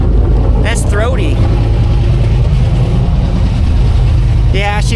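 A cold turbocharged LS V8 idles with a deep, throaty, steady rumble close by, running continuously throughout with faint whistling or squealing in the upper range at moments.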